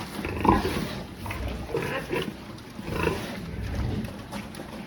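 A sow squeals and grunts in short bursts during vaccination, fairly close, against a steady low background hum.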